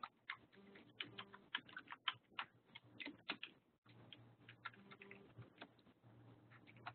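Quiet, rapid tapping on a computer keyboard in a room, with irregular clusters of keystrokes and a brief pause in the middle.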